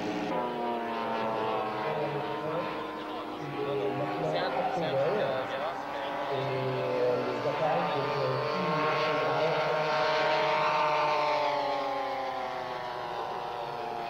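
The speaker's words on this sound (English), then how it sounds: "Black Widow P61. Powered by two 38cc Zenoa engines, it flies with ease" Twin 38cc Zenoa petrol engines power an RC scale model Black Widow P61 plane at a flying meet, giving a steady droning buzz with shifting pitch as it passes, heard under continuous narration.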